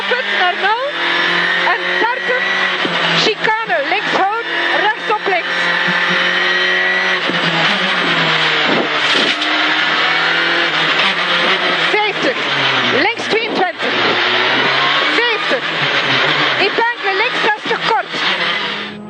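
Rally cars race on a special stage of the East Belgian Rally, including a Citroën, with engines revving and shifting loudly and continuously under a commentator talking throughout.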